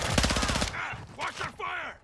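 Rapid bursts of automatic gunfire from a military shooter video game, loud and close for under a second, followed by brief shouted voices over softer game ambience.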